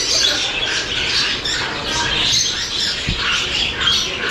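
Several sun conure parrots squawk shrilly and repeatedly, a loud overlapping chorus of harsh calls close by.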